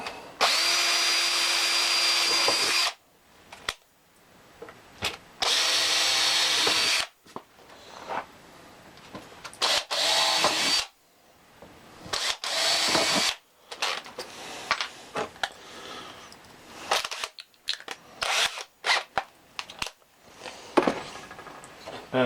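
A power drill with a 3mm bit runs in repeated bursts, steady whirring runs broken by pauses, then shorter stop-start pulses and clicks as it bores into scrap wood.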